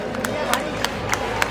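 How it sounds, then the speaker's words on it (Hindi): A crowd at an outdoor Valmiki Jayanti event in Mehrauli claps under loud, echoing speech. Sharp claps are heard within a dense, reverberant din. "एक बार जोरदार तालियां भारत भाई"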